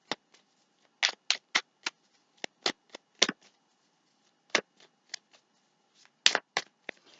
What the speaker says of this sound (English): Okay, let's give it a shuffle.